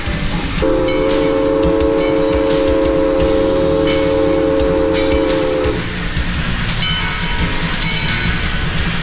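A steam locomotive of the Yosemite Mountain Sugar Pine Railroad rumbles loudly up close while its whistle sounds a long sustained blast, the chugging and hissing continuing after it stops.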